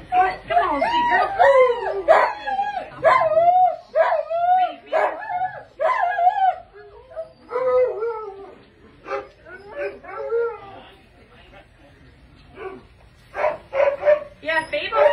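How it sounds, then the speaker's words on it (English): Puppies and an older dog play together, yipping, whimpering and barking in repeated bursts and howl-like calls at close range, with quiet pauses between. "are you playing with the puppies again?"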